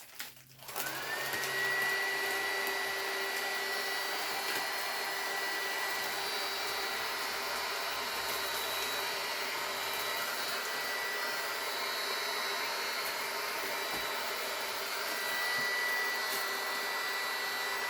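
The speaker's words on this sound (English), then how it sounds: "what I'm doing is I'm warming up the shrink wrap so that I can maneuver it, I can pull it" A heat gun warms and softens shrink wrap around a large Easter basket, its steady loud blowing whine starting about a second in and running continuously to the end with no talk.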